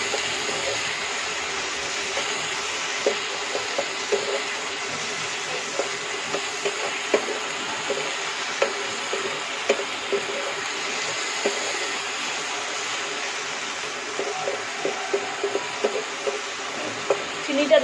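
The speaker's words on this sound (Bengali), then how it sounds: "ভালো করে আমি নেড়ে নেব চিনিটা দেওয়ার পর" Bathua greens with sugar are stirred in a pan, giving a soft, steady sizzling hiss broken by scattered light scraping clicks from the stirring.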